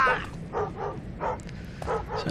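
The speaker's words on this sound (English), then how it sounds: "Certainly woke the dog up." A dog in the video game Thief barks repeatedly, giving about six sharp, fairly loud barks in an uneven rhythm against a quiet, low background hum.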